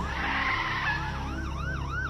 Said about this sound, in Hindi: पुलिस की गाड़ी सायरन बजाते हुए आती है